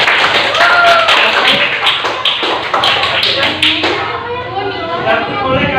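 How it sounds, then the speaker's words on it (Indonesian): A class applauding a student group, brisk clapping from many hands that fills the room and tapers off toward the end, with voices mixed in. "Beri aplaus untuk kelompok 1 ya."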